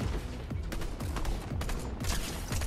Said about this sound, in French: Il y a un autre mec en plus qui me tire dessus.